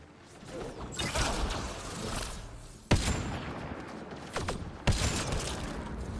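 Rifle gunfire in Mass Effect Andromeda: a few loud, sharp shots ring out at irregular intervals over a dense, rumbling battle backdrop with mechanical clatter.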